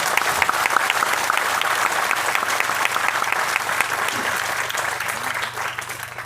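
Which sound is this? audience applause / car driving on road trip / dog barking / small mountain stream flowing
audience applause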